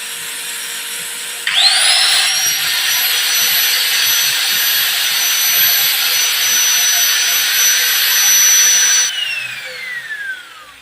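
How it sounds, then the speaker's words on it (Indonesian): A loud angle grinder whine joins a running drill on a 450 W supply and runs steadily at high pitch, then winds down with a falling tone as the overloaded circuit trips. "Tambahkan gerinda."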